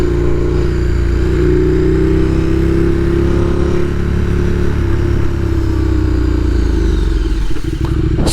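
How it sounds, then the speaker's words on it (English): KTM EXC-F dirt bike with an aftermarket muffler, its engine droning loud and close at a steady mid-range tone, easing off toward the end. "Yeah, I love how this bike sounds. It just sounds awesome. This is just a muffler too."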